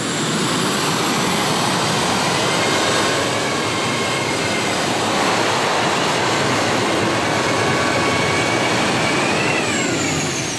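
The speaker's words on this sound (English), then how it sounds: "3 turbine engines is what's on this one" A super modified pulling tractor powered by three turbine engines roars continuously at full power, a loud, dense jet-like whine and rush that holds steady throughout with no talk.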